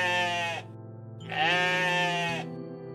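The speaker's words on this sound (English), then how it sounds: "Look at all these goats. Well, rams." Rams bleat in the video game OneShot, two long wavering cries in a row with a short gap between them, loud and close over a steady low game music drone.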